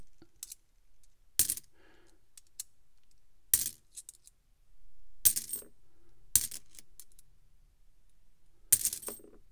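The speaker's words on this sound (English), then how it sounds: "This bag is overflowing and all the coins are spilling out." Coins spilling from an overflowing bag of mixed coins, sharp metallic clinks arriving in a handful of separate bursts with quiet gaps between them.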